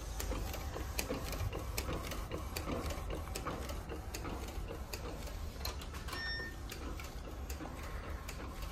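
A modified Epson ET-8550 or L1800 DTF printer runs fast on roll media, giving a steady mechanical whir with rapid ticking carriage clicks at moderate volume. No one speaks.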